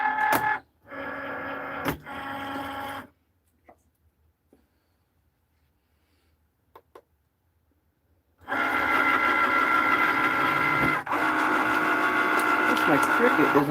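A Cricut cutting machine whirs and buzzes in steady mechanical bursts, running briefly, pausing through a long near-silent gap, then starting again loudly and continuing to the end.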